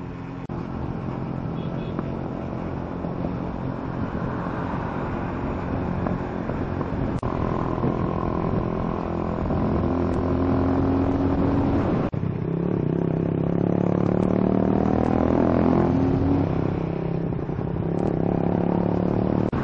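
A motorcycle on a mountain road heads downhill slowly in low gear on engine braking, its drum brakes spared, with a continuous low engine drone whose pitch drifts and wavers, alongside wind rumble and no speech.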